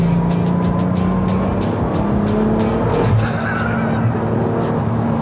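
A 1200 hp Volkswagen Golf R32 accelerating hard in fourth gear, a loud continuous engine roar climbing steadily in pitch with a brief shift-like change near the end, close and sustained with no talking.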